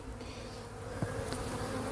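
Honey bees swarm around an open hive at close range, a dense steady buzz that continues without a break, with no voices over it.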